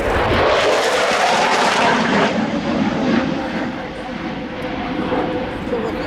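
A Swedish Air Force JAS-39C Gripen fighter jet makes a fast pass at the RIAT 2016 airshow, a loud, rushing engine roar that peaks early and then eases off as it pulls away, with a voice talking over it.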